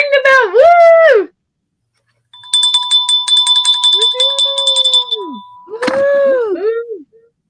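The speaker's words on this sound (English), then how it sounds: "Ring the bell." A bell rings with a sustained, bright metallic tone for a few seconds, set between bursts of excited voices cheering and calling out.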